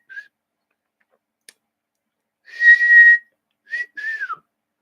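A person imitates a wolf whistle with their mouth, giving a few short, clear whistled notes, one longer sustained tone, and then a rising-falling two-part whistle, close and loud against silence.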